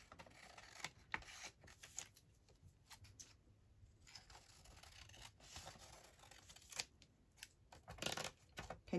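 Scissors snipping through junk mail envelope paper for a journal, a series of quiet close crisp cuts and rustles at irregular intervals, with no talking.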